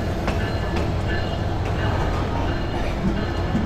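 Tourist express train at Chittagong railway station, a continuous rumble of rolling carriages with periodic wheel clicks on the rails, loud and close, with some voice in the mix.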